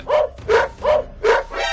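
A cartoon dog barks four times in a quick, evenly spaced run, each bark loud and close, followed by a softer trailing yelp.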